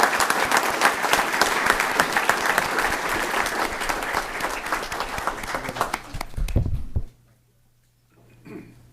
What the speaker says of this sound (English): So how about giving them a round of applause?